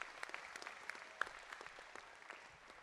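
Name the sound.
round of applause for tech crew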